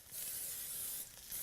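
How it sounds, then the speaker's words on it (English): Cooking spray hisses from a can over cornmeal-crusted nuggets in one short, soft, steady burst. "I'm going to take some cooking spray"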